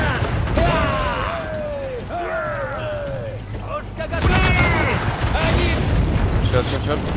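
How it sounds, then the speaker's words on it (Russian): Ship cannon fire in Assassin's Creed 4 Black Flag during a fort and sea battle, heavy booms rumbling beneath shouted crew commands and ongoing talk, with the louder blasts arriving in the latter half. "Пушка готова!"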